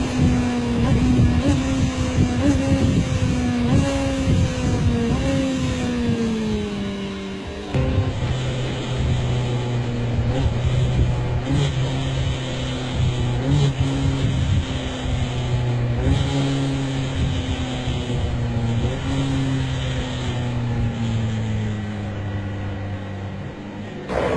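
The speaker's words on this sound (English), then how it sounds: "Careful timing of the throttle blip and the gear lever makes it surprisingly easy and smooth, with or without a slipper clutch." A motorcycle on a track downshifts without the clutch, its engine pitch stepping down through the gears with throttle blips between shifts, loud and steady throughout.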